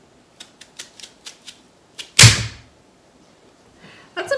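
A NutriChopper presses down on a cucumber: a series of light plastic clicks, then one loud, close chopping thunk that trails off, followed by faint rustling.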